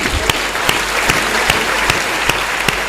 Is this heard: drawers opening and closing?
no